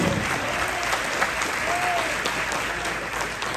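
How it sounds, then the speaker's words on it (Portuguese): A church congregation breaks into applause during a sermon, a steady wash of many hands clapping together at moderate loudness throughout, with no voices standing out. "Se é para Jesus, então pode aplaudir."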